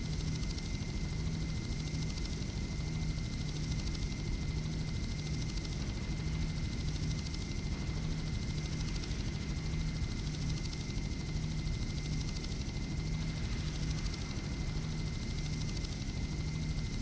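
A fast helicopter in the video game Just Cause flies steadily, its engine and rotors producing a continuous droning hum with a buzzing tone that holds throughout, loud and unbroken with no speech.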